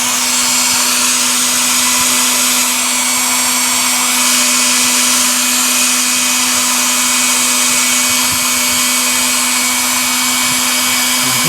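A heat gun heats the handbrake bracket of a Jaguar X-Type, giving a loud, continuous blowing roar with a steady hum, unbroken and close.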